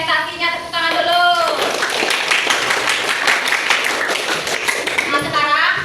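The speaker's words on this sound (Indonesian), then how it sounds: "Tepuk tangan dulu." A classroom of students claps together after a student's presentation, a burst of brisk, dense handclaps lasting several seconds, with a teacher's voice speaking just before and after.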